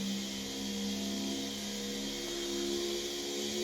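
A motorcycle engine in the racing video game The Crew drones at a steady high rev, a continuous buzzing mechanical whir with no talk.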